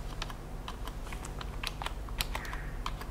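Computer keys are typed in quick, irregular clicks while a PC boots, with a low steady hum beneath the close, fairly quiet tapping and nobody speaking.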